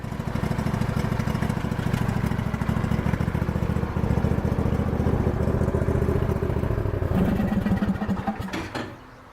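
A modified, cammed Craftsman DLT lawn tractor engine idles steadily after a cold start, its loud, rapid single-cylinder chugging and clatter running continuously up close before cutting off near the end.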